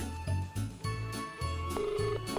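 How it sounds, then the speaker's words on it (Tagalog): A mobile phone rings with a repeating electronic tone in short regular bursts, moderately loud over a steady background hum, heard during a radio call-in broadcast. "nagre-ring na Jessa, number ni Jessa Malaga"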